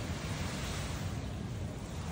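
Steady broadband wash of sea waves breaking on a beach, a continuous even roar with no distinct individual crashes, fairly soft and alone.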